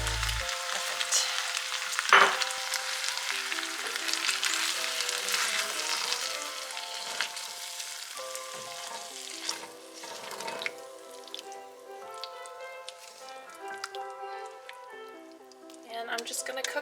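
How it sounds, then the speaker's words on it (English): Butternut squash pasta sauce bubbling and sizzling in a pan, a steady close crackle with soft wet pops and stirring squishes, with music playing underneath. "All right, the sauce is nice and bubbly"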